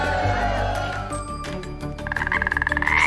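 A cartoon frog in the video game Wonderbox croaks in a fast run of rhythmic, pulsing calls that grow louder, layered over bright game music and effects.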